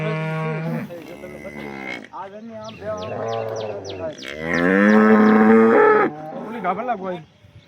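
Several cows moo loudly and close by, long drawn-out calls one after another, with a few short chirps in the background, at a cattle sale in Halenda village, Rajkot district.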